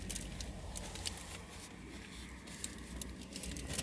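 Light rain patters steadily on a parked car, heard from inside as a soft, dense crackle with occasional louder drops.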